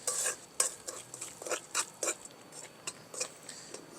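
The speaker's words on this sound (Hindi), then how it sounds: "अब इसको हम अच्छी तरह हिलाएंगे ताकि चारों तरफ से चीनी के ऊपर सेम कलर आ जाए और ये अच्छी तरह मेल्ट हो जाए" A spoon stirs melting sugar in a pan over a low flame, giving a series of soft, irregular scraping taps against the metal with a faint sizzle, close and quiet.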